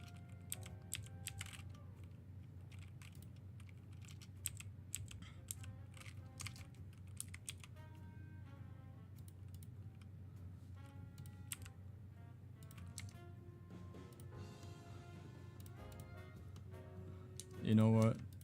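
Typing on a computer keyboard while building a 3D Animal Jam animation, scattered soft key clicks in irregular bursts underneath a person talking.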